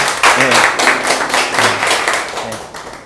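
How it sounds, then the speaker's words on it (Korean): A small group at a franchise marketing talk claps close by in a short, uneven burst, with a voice speaking faintly under the clapping. "박수 한번"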